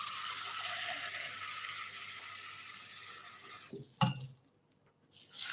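Water pours steadily into a cooking pot holding dry farro, a continuous close splashing rush that stops abruptly near the end, followed by a few soft knocks and near quiet.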